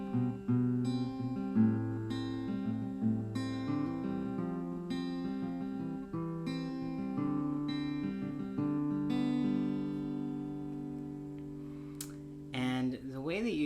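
A guitar plays the opening section of a song, with plucked notes ringing over sustained chords in a steady, unhurried rhythm, close and clear, and no voices.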